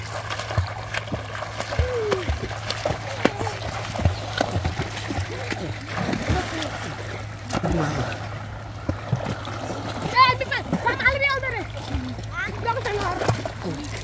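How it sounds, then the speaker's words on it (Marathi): Water splashes and sloshes in a swimming pool amid a lively crowd of talking and shouting voices, with a steady low hum running throughout. "पाणी उडवू नका प्लीज प्लीज प्लीज प्लीज"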